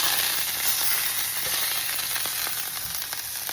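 Food sizzling in a hot pan just after being flipped, a loud, steady frying hiss with faint crackles and light scraping.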